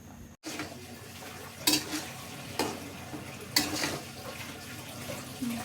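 Potatoes and flat beans cooking in a pan with a little added water, a dull bubbling simmer punctuated by a few scraping stirs of a spatula, close and moderately quiet, without speech.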